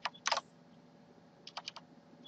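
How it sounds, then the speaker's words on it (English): Typing on a computer keyboard while entering a formula in an Excel spreadsheet, two short clusters of quick, close clicking keystrokes separated by a quiet pause. "Start typing here."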